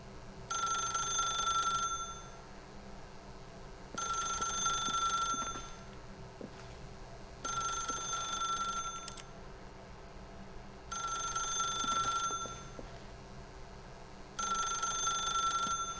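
A telephone in The Stanley Parable video game rings in five loud, regular bursts of electronic ringing, each about a second and a half long, separated by short pauses, with no one speaking.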